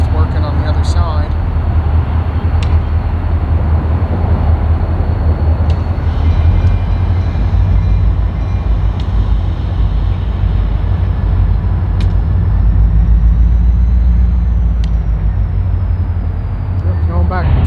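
A train moves slowly backwards along the tracks in a rail yard with a steady heavy rumble and occasional metallic clanks and squeals, loud and close throughout.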